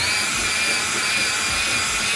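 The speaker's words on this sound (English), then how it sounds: "I would do maybe like 10 seconds of one direction, flip the drill in the other direction, and go at it again" A hand drill spins a hone inside an engine cylinder bore, giving a continuous high, even grinding whine close up with no pauses or speech.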